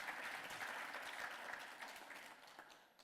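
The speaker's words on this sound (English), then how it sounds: "let's give her a big round of applause" Crowd applause at the opening session of the 2023 NUP DC convention, a dense wash of many hands clapping that holds steady before fading toward the end.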